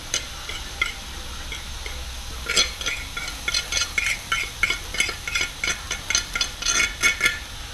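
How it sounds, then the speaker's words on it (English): Salmon frying in a hot pan, a soft steady sizzle that grows into rhythmic scraping and clinking as the food is stirred and moved about. "Throw the salmon up in there."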